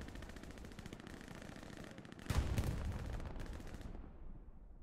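Artillery shelling in the World War II shooter Hell Let Loose: a dense crackle of distant gunfire gives way to one heavy, close blast whose rumble rolls out and fades over a couple of seconds.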